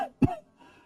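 An elderly man gives a single short, rough cough, close and fairly quiet, followed by a faint trailing breath.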